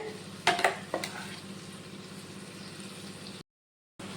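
Ground onion and tomato paste sautéed in a pan with dried fish gives a faint, steady sizzle, opening with a few sharp utensil clinks and scrapes, then a brief dropout to silence.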